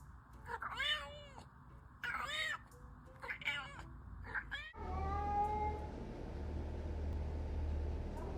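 A cat yowls in several drawn-out, wavering meows with short pauses between them, fairly faint, over a low steady rumble that gets louder toward the end.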